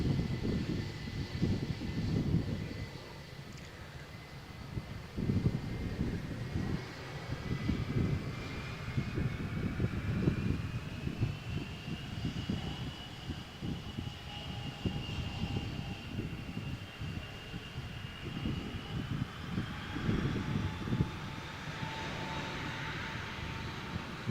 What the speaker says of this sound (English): this is an immediate takeoff, a rolling takeoff from Vueling flight